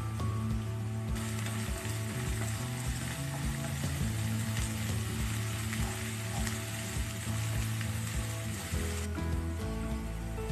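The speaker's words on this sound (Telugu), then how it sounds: "తర్వాత పచ్చిమిర్చి, క్యారెట్ అలాగే కొంచెం క్యాప్సికమ్ ఇవన్నీ వేసుకొని ఒకసారి ఫ్రై చేసుకుందాం" Green chilli, carrot and capsicum frying in a pan, a dense continuous sizzle with a low steady hum beneath it, fairly loud and close, no voices.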